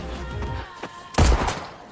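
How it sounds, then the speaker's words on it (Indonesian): A gunshot from the action film The Old Guard cracks out loud and sharp against a low background score, then booms and echoes briefly before fading. "bahkan tak segan-segan menembak tepat di jidatnya"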